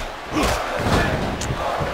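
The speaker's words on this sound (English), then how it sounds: "The crowd's cheering for Morrison." A wrestling video game crowd roars and cheers in a dense, loud wash of voices, with a few brief shouts rising above the din.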